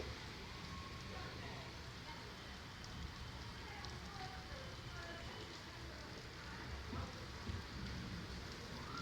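Steady, soft rainfall patters continuously at a low level, a gentle even hiss without breaks.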